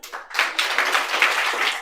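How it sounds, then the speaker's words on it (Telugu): Students in a classroom clap for a classmate, a short burst of brisk, fairly close applause from a small group, with no talking. "Claps."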